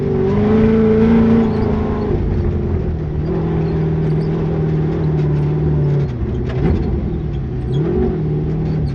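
A race car with a dogbox transmission, Mendeola/Weddle S4S, revs loudly up close, its engine pitch dropping in steps through several quick shifts and a downshift, with no talk over it.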